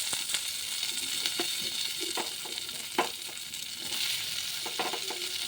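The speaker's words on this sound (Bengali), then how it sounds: "এই তেলের মধ্যেই আমি আগের থেকে লবণ হলুদ দিয়ে মাখা বেগুনগুলো ভেজে নেব।" Salted, turmeric-coated eggplant pieces fry in oil, the same oil just used for bitter gourd, giving a steady close sizzle with occasional scraping stirs and clicks of a utensil against the pan.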